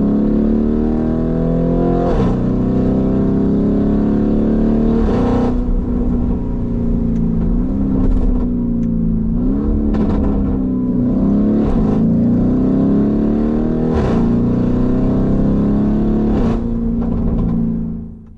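A powerful Lamborghini Urus engine, Mansory Venatus version, revs hard and steadily, pitch rising and dipping with repeated throttle blips and gear changes, loud and close, no talking.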